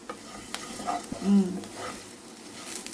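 Coriander seeds and green chilies fry quietly in a pan, a faint sizzle with light stirring scrapes and a soft clink, low and close.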